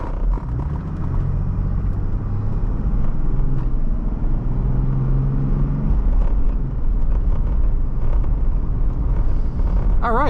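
A 1987 Mercedes-Benz 300TDT in Beryl Blue cruises along a road, its engine and tire rumble forming a steady, close drone throughout with broadband road noise.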